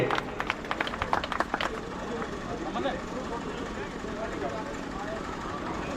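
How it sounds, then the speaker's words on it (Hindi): Rally crowd at a Haryana election meeting in Bawani Khera breaks into applause, with a burst of distinct claps in the first two seconds, then a dense, steady crowd roar. "एक बार जोरदार तालियां बजा करके"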